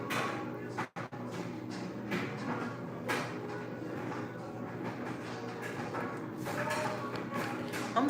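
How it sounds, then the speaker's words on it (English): A clothes dryer runs in the background of a home, giving a steady, low, broadband rumble with occasional soft thumps from the tumbling drum, fairly faint and continuous throughout. "I'm sorry y'all can hear the dryer in the background"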